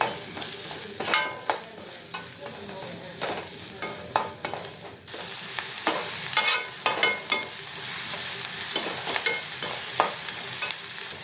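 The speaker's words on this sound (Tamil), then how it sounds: "இப்போ வெங்காயம் நல்லா வதங்கி வந்துடுச்சு." Chopped onions sautéing in oil in a pan for tomato chutney, a continuous close sizzle broken by repeated sharp scrapes and taps of the stirring spoon, growing brighter partway through.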